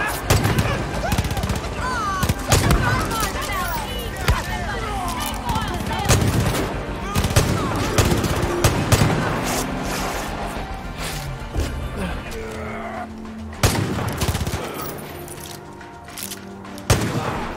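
Heavy gunfire from the PC video game Far Cry 5 fills the scene with loud, dense bursts of shots and crashing impacts that keep coming in clusters, with a brief lull near the end.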